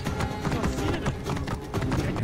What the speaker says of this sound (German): Und was macht das Pferd hier?